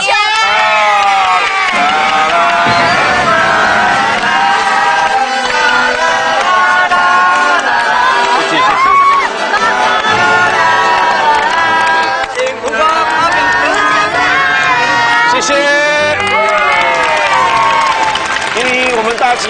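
A studio audience at a Taiwanese variety show, filmed in Hsinchu, cheers and applauds a guest. The crowd noise is loud and steady for the whole stretch, mixed with bright musical tones.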